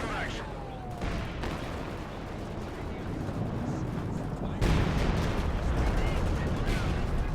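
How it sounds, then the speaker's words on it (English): A StuG assault gun fires on a KV-1 tank in a Company of Heroes 2 battle, with repeated heavy booms and crackling gunfire over continuous rumbling battle noise that swells louder toward the end. "there's the Stug firing on the KV-1"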